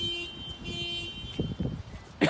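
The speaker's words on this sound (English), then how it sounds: "Someone's alarm going off there in the background." A car alarm sounds somewhere in the background near a parked 2017 Pajero Sport GLS, with a steady electronic tone followed by a few thumps and bumps closer by.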